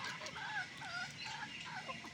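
Native hens and a rooster cluck close by in a backyard flock, a steady stream of short rising and falling calls over soft background noise.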